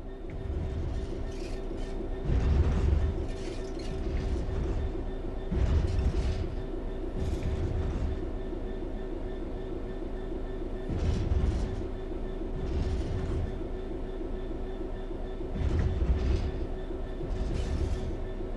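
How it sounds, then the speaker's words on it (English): A train in the video game Train Sim World 4 coasts steadily along the rails on level ground with a low continuous rumble and periodic swells of wheel noise, no voices present. "The train will then coast on level ground, and the train will only slow down very gradually."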